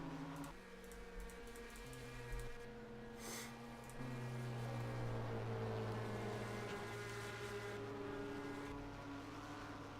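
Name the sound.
race car engine coasting under caution, racing video game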